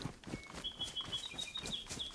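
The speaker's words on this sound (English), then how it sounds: "You hear like little birds, you hear deers in the distance, a little bit of wind left and right." Small birds chirp in the open countryside of the DayZ DeadFall map, a few faint scattered calls over a soft ambient bed.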